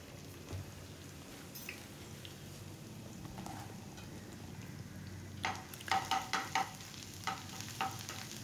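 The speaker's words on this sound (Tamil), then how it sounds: "அந்த பூண்டோட வாசம் மனம் நல்லா வரும் அந்த எண்ணெயில் ரோஸ்ட் ஆக ஆக" Chopped garlic and ginger fry in hot oil in a pan, a faint soft sizzle with light stirring and a few sharper scrapes of a spoon near the end.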